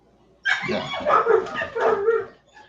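A burst of several dog barks and yelps, fairly close and loud, running together for about two seconds with no talking.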